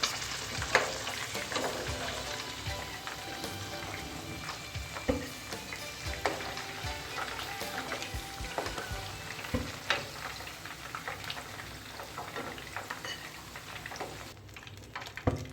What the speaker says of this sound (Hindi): ये बाकी के पीसेस भी मैं इसी तरीके से फ्राई कर लेती हूँ अच्छे से